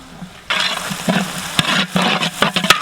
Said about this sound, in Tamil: அடுத்து கையோட பெரிய வெங்காயம் 2 கிலோ, பச்சை மிளகாய் ஒரு 15 இதில் போட்டுக்கலாம்.